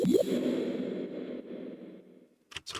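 A reverb tail squashed by OTT multiband compression in a music production session, swelling as a dense wash that slowly decays over about two seconds, followed by a couple of short bursts at the end.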